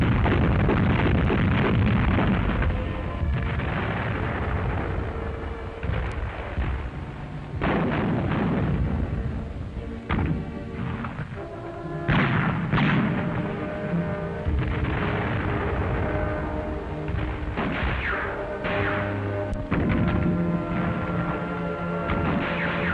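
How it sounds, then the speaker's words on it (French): Allied fleet naval guns bombard the Normandy beaches at dawn in 1944, heavy booming salvos and blasts following one another over a continuous rumbling roar, loud and close. "les canons des flottes alliées donnent le signal de l'assaut sur les plages de Normandie"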